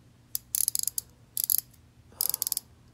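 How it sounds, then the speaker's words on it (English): Quick bursts of rapid, crisp ratcheting clicks from a White Industries DOS ENO bicycle freewheel being spun after overhaul, three short runs separated by brief pauses, close and fairly quiet. "We've got some ratcheting."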